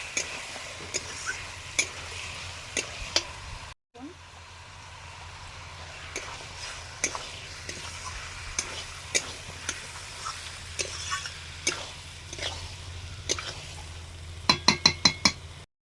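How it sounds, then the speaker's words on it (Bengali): Chicken frying in a spiced masala, a steady soft sizzle close by, with sharp clinks and scrapes of a spoon stirring against the pan at irregular intervals and a quick flurry of strokes at the end. "এবারে চিকেনটা দিয়ে দিচ্ছি।"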